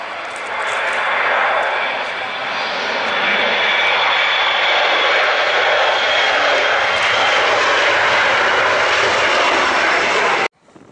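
Airplane descending to land at Manchester Airport, a loud sustained engine roar that holds steady for about ten seconds before cutting off, with people talking and laughing faintly underneath.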